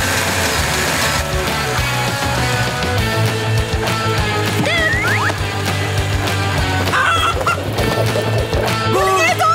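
A cartoon chicken from Paw Patrol clucks and squawks in short bursts over loud, continuous background music.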